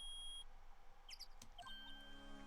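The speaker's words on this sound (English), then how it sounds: "It's beeping! The metal detector found something!" A metal detector beeps in the Ace Attorney video game: a few short, bright electronic tones, with steady game background sound underneath.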